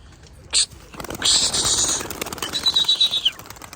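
Turkish tumbler pigeons burst into flight with a sharp flurry of flapping wings, followed by a short whistling tone and someone talking nearby.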